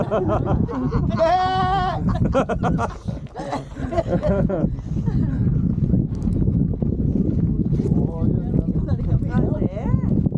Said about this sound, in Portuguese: os bodes e as ovelhas aí, gente.